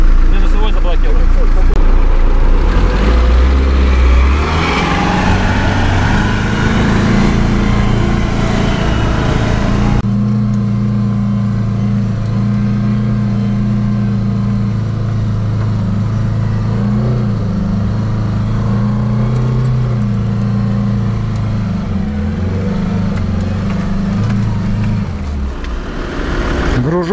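Loaded car with a 1.9 L 120 hp engine carrying 200 kg of sand in the back, pulling uphill in low first gear without revs; a steady, close low engine drone runs throughout beneath ongoing talk.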